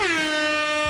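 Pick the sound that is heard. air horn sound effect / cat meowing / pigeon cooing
air horn sound effect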